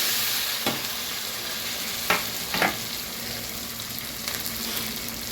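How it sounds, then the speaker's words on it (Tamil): Onions sautéing in hot oil with bay leaf, cumin and cardamom give a continuous bright sizzle, up close, broken by a few sharp spoon scrapes and taps as the pan is stirred. "வெங்காயம் நல்லா வதங்கட்டும்."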